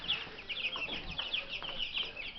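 Three-week-old Australorp chicks cheep and cluck in a rapid, busy chorus of high, overlapping calls, close by and fairly steady throughout.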